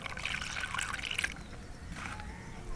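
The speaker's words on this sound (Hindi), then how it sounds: "अब मैं इसके अंदर ऐड कर देती हूँ 1 कप पानी।" One cup of water is poured into a spiced mixture for an aloo egg roll paratha, heard as a close, brief splashing trickle that fades into quieter dribbling.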